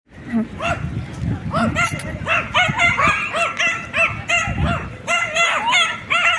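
Two small dogs yapping repeatedly at the Morillon dog park, sharp high barks coming in quick bursts over background chatter and movement, with people talking nearby.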